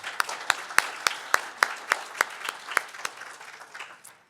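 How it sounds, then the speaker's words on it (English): Clapping from the audience at an all-candidates federal election dialogue in Surrey, hosted by a business organization: a steady run of distinct, evenly spaced claps that thins out toward the end, with no talk over it. "A round of applause."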